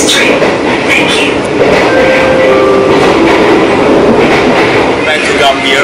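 Continuous rumble and clatter of the Argo Jati Tambahan passenger train in Indonesia, heard from inside an executive class carriage, with faint squeals and talk in the background.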